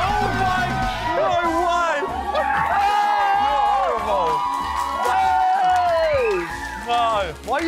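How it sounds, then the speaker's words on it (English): A studio audience at a celebrity sliming game show cheers loudly, with whoops and children's shouts rising and falling through a dense crowd roar; voices shout over it. "Why are you cheering?"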